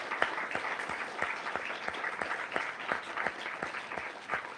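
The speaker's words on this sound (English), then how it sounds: "Can we give a big round of applause to Ryan Gellert, ladies and gentlemen?" Audience applause at a lecture, steady clapping from a moderately sized crowd with individual claps audible, sustained evenly throughout.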